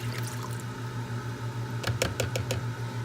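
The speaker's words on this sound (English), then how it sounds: "So I'm going to pour our water in." Water poured into a container while making charcoal and tea tree soap, a soft liquid trickle over a steady low hum, with a few sharp clinks near the end.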